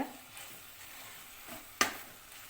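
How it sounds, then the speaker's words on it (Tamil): Spiced brinjal thokku is stirred in a frying pan, a low steady sizzle with soft scraping strokes and one sharp clack of the spoon against the pan, close and quiet. "இப்போ இதை எல்லாத்தையும் நல்லா ஒரு தடவை கலந்து விட்டுடலாங்க"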